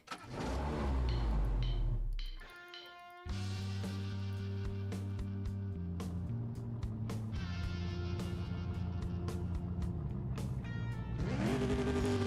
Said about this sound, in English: Alright, we're going to race this Lamborghini.